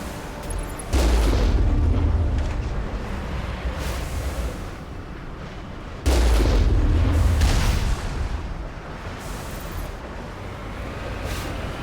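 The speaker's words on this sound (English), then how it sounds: "the Mako's cannon will make short work of those" Two heavy booming cannon blasts from the Mako armored vehicle in Mass Effect, each a loud low thump with a rumbling tail that fades over several seconds, spaced about five seconds apart with no speech.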